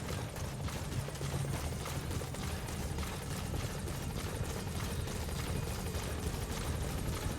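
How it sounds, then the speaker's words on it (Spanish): A helicopter in the video game Metal Gear Solid V: The Phantom Pain thuds with a rapid, rhythmic rotor chop under a steady engine drone, moderately loud and constant throughout. "Aún así me parece que el helicóptero te lo mandan"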